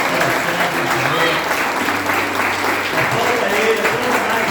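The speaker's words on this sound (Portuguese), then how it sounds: "Dá uma salva de palmas para o Senhor." Church congregation clapping hands together during a worship service, a loud, dense wash of applause throughout, with voices faintly mixed in beneath it.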